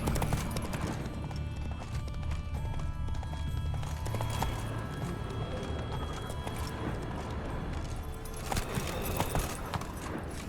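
Rapid hoofbeats of a galloping horse in The Witcher 3 thunder along under a busy, dense background of game sounds, steady for the whole stretch.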